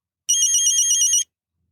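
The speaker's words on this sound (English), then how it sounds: "the sharp ring of my mobile" A mobile phone rings with one short, sharp burst of bright warbling electronic tone, about a second long, loud and close against silence.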